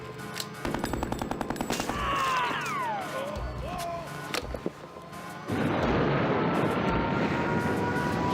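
Gunfire from the video game Harvester: a burst of rapid, loud automatic shots early on, with game sounds and tones in between, then a dense, sustained roar of noise that fills the rest of the scene.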